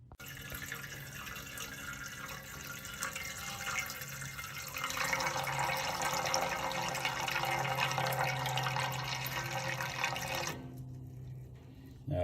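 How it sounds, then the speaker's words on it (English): Wort pours off a grain bed in a homebrew pumpkin beer mash during sparging, a steady close trickle and splash that swells midway, then cuts off abruptly near the end. "we're just doing the first runnings now to make sure we have a clean grain bed"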